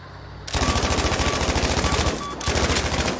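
A VGO light machine gun in the shooter Battlefield V fires in long, fast, evenly spaced automatic bursts, loud and close, with a brief break between the two strings of shots.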